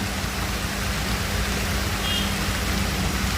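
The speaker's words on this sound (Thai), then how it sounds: "ดูฝนตกโปรยปลายนะครับ" Rain falls steadily across a durian orchard during wet-season work, a constant close hiss with a faint low hum beneath and no talking.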